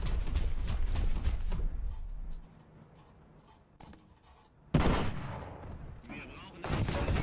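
Video game gunshots ring out in sharp bursts, loud at the start, then drop to a quieter lull with a few isolated cracks before heavy firing resumes near the end.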